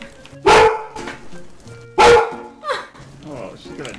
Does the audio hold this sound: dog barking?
yes